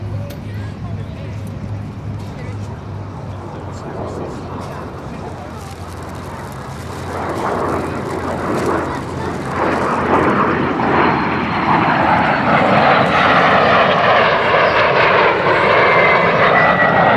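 A MiG-15 UTI flies a formation pass with two DH Vampire jets at Duxford, a loud jet roar that builds and sweeps overhead with a falling, whooshing pitch as the formation passes. A commentator talks over it.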